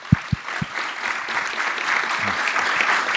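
Applause from an event audience honoring a filmmaker, opening with a few sharp isolated claps that quickly swell into continuous crowd clapping filling the rest of the moment.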